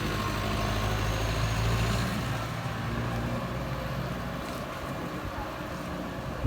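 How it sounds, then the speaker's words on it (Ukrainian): A tractor's heavy engine rumbles steadily with low droning tones, passing by outdoors amid wind noise, gradually fading slightly. "Це трактор, поїхав."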